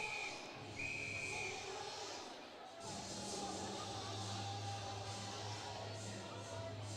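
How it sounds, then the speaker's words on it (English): A referee's whistle blows during an ice hockey game, two short, faint shrill blasts far off in the arena over a murmuring crowd and rink noise. "did you hear a whistle in your headset?"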